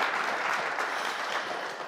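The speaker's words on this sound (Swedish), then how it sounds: "Applåder här" A small live audience at a morning talk event in Smedjebacken applauds briefly, a dense, even patter of many hands that slowly tapers off, with no voices over it.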